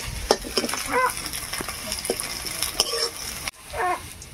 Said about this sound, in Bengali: এই যে দেখুন, পেঁয়াজটা ভাজা হয়ে গেল